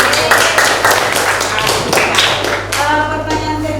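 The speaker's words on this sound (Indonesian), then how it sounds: "Ya, kita beri aplaus." Applause from a seated audience at a classroom presentation session, a burst of many hands clapping together, steady and fairly loud for a few seconds before thinning out.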